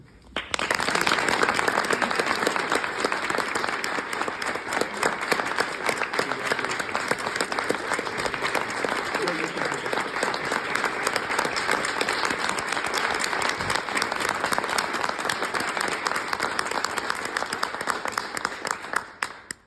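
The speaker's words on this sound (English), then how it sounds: "Thank you all for that wonderful round of applause" Audience applause at an award ceremony for the presentation of the John Lewis Award, loud and steady for nearly twenty seconds with no voices over it.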